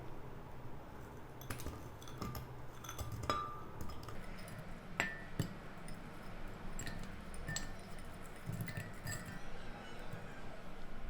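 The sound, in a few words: frozen peach pieces clinking into a blender jug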